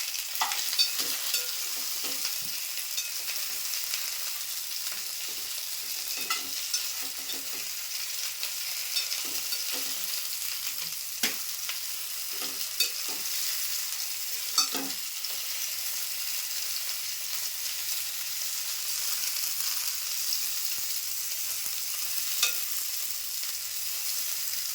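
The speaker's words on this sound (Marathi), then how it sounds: "दोन 3 मिनिटांसाठी अशी परतून घ्यायची." Eggplant for Maharashtrian bharit is stir-fried lightly in oil, with a soft, steady sizzle and scattered scrapes and taps of a spatula in the pan, close by and without talk.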